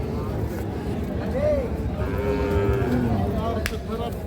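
At a busy cattle market, a bull lets out a drawn-out low moo midway, heard under a constant murmur of crowd voices and background noise.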